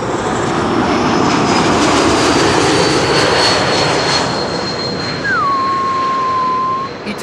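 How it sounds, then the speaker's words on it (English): An Embraer 195-E2 jet arriving on runway 06 (Kaagbaan) at Amsterdam Schiphol gives a loud, sustained engine roar with a rising whine, close and overwhelming. "E2 Embraer 195 arriving from Brussels, flight 1704."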